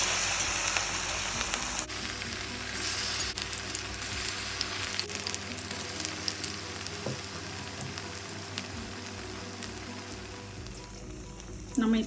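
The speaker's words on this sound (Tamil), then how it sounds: "தட்டை தட்டியாக இது மாதிரி எடுத்து போட்டு பொரிச்சு வச்சுக்கலாம்." Mushroom patties for a roadside-style kaalaan deep frying in hot oil, a dense continuous sizzle and bubbling crackle heard up close and steady for the whole stretch, with no voice.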